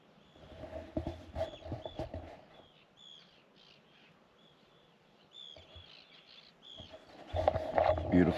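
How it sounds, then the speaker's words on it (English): Arctic terns calling on Papa Stour, Shetland: repeated harsh, high calls at moderate distance, with bursts of rustling and handling noise and some talk at the start and end. "We got woke up by the Arctic terns."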